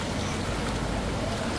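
Water from Ayn Tobruq waterfall in Salalah, Oman, during the Khareef season, pouring as a steady, dense broadband rush that holds unbroken and fairly loud throughout, with no voices.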